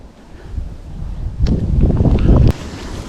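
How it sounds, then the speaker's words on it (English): Wind gusts by an Irish canal during a fishing outing, a rough low rumble buffeting the microphone that swells through the middle and then drops off abruptly, with no talking. "It's a little bit windy."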